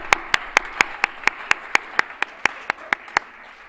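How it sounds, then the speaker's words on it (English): At a school fall sports award ceremony, evenly spaced single claps ring out one after another in a slow, steady rhythm, about fourteen sharp hand claps over a quiet room background. "let's give a round of applause for Coach Dom that can't be here tonight"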